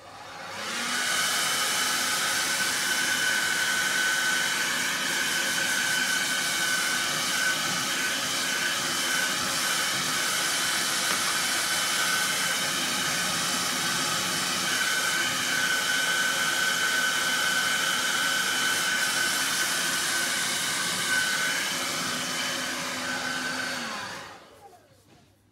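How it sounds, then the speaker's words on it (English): A new hair dryer blowing on wet acrylic paint to speed drying, a loud steady whirring roar held for over twenty seconds before switching off, with no talk. "So I bought myself a new hair dryer"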